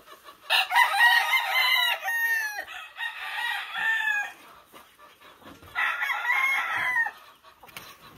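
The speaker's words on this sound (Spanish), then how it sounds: "Este es el gallo del señor descamisado" A giro negro gamecock crows loudly and nearby in several long, ragged calls, with brief clucks between the bursts and no voices over it.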